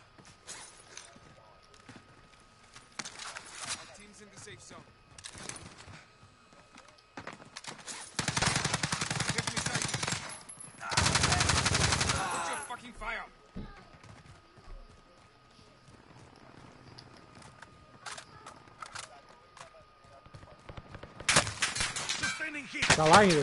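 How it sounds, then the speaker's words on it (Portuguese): Sniper rifle and other gunfire in the video game Warzone, with loud bursts of shots clustered midway and near the end, separated by quieter stretches where someone talks. "Tem na torre aqui, eu vou pegar ele de sniper."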